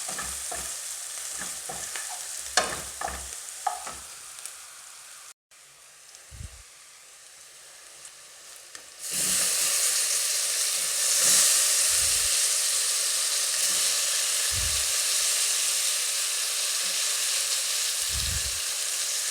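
Matoke green bananas fry in a pan, first with scattered clinks and stirring knocks, then a loud steady sizzle and hiss with occasional thumps of the spoon, close by and without speech.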